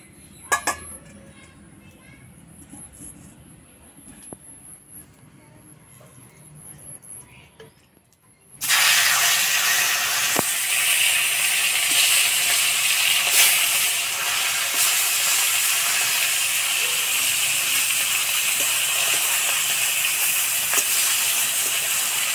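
Katla fish head rubbed with salt and turmeric, dropped into hot oil in a village kitchen: a quiet stretch with faint background sounds gives way to a sudden, loud, sustained sizzle that continues to the end.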